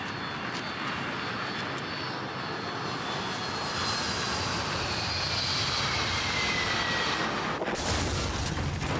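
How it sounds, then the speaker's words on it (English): Steady, loud drone of an aircraft engine heard from inside a plane cabin in the survival horror game The Forest, continuous and unbroken for most of the clip before a sudden shift near the end. "We're in a plane and something's just happened."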